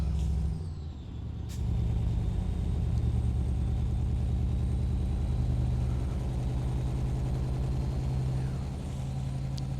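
A heavy truck engine, an old Kamaz in Euro Truck Simulator 2, drones low and steady while driving along a Black Sea route, with a brief hiss near the start and constant rumble throughout.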